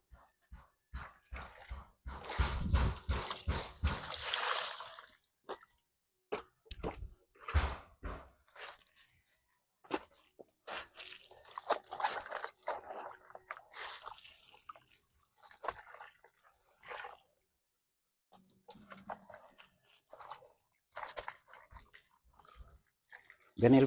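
Wet laundry is beaten by hand in old-fashioned provincial washing at a river, heard as irregular, sharp, close slaps and thuds with watery splashes and drips, sometimes in quick clusters and sometimes separated by pauses.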